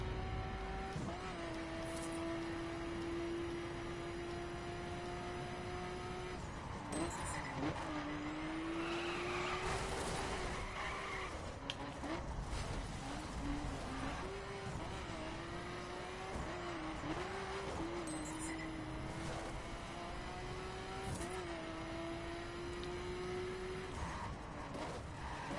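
A racing car engine in The Crew video game drones steadily at high revs for a long stretch, pitch sliding up and down with gear shifts and a brief skid, with no talking.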